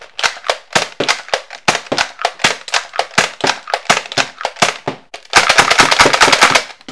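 Nerf Strongarm toy blaster firing in a quick string of sharp, snappy shots with brief gaps, then a faster, denser burst of rapid pops near the end, loud and close with no talk.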